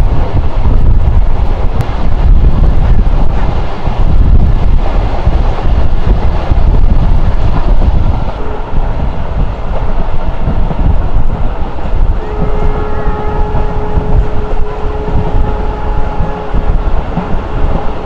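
A Mongla commuter train runs over a viaduct, heard as a loud, continuous, close rumble with heavy wind buffeting that eases slightly midway, while faint tonal hums and squeals emerge toward the end.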